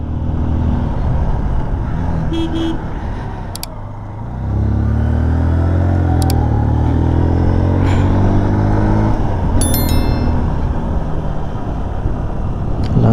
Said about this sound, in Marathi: अरे बापरे गाडी चढते की नाही